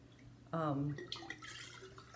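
Bone broth ladled from a pot into a quart jar gives a short liquid pour and splash, close and clear, followed by faint drips and small handling noises.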